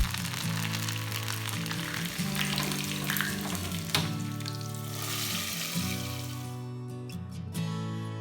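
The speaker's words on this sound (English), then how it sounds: "Then tempering it with chopped onions." Chopped onions and curry leaves frying in oil for a tempering, a steady close sizzle and crackle with occasional stirring, over soft background music and no talk.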